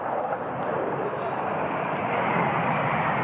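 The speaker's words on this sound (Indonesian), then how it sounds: "Riuh suara mesin dari jet tempur Israel menarik perhatian warga" An Israeli fighter jet flies low over the Al-Aqsa Mosque area, its engine giving a continuous loud roar that fills the whole stretch with a broad, steady rumble.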